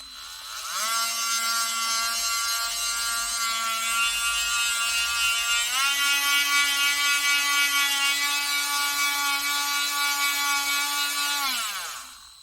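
A Parkside 4V cordless rotary tool whines steadily under load, a high tonal buzz that starts abruptly and shifts up in pitch partway through. It runs alone for about eleven seconds, then spins down and stops.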